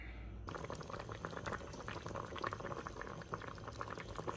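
A pot of chicken stew in red wine with mushrooms bubbles and simmers close by, a soft, steady burble of liquid that starts abruptly and continues evenly.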